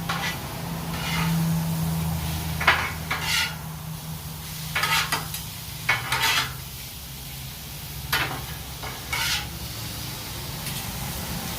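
Thin-sliced pork and broccoli sizzle steadily in a hot stir-fry pan, with intermittent scraping and stirring clatters of a utensil against the pan and no talking.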